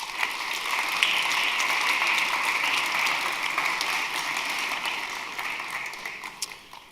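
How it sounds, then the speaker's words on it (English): An audience at a spring student-athlete awards ceremony claps in a steady, dense burst of applause that holds for several seconds and then slowly thins out toward the end. "I want to give yourself a round of applause for the work you put in."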